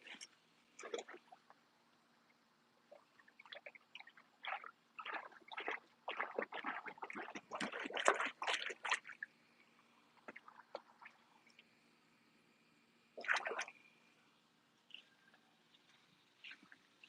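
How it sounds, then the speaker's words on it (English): Hands being rinsed off in a swimming pool during a pool-cleaning session: intermittent close splashes and sloshing water in short bursts, busiest in the middle, then a final burst after a lull. "Rinse my hands off in my pool"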